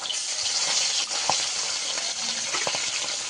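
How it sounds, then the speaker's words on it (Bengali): River fish frying in hot oil in a wok, a loud continuous close sizzle and crackle with a few brief utensil knocks. "তেলটা গরম করে এবার মাছ ছাড়ছি।"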